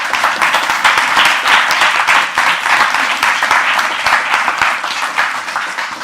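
An audience applauds after a mathematics talk, a steady, loud round of clapping that fills the room without a break for several seconds.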